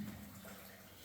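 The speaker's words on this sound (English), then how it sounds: "that's where the water is running over it" Water running over stone inside an old gold mine shaft, a faint steady trickle heard alone for about a second.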